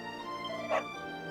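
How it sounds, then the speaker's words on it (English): A single brief dog bark from Dragon Quest XI rises over a steady bed of game music, short and moderately loud. "Arf, arf. Woof, woof."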